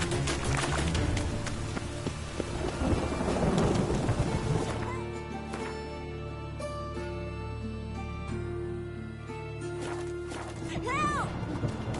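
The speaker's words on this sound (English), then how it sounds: "A storm, damn it. Rain was coming." Rainstorm with thunder from the video game The Witcher 3, a steady wash of rain with low rolling rumbles throughout, busiest in the first few seconds, while background music and speech sit underneath.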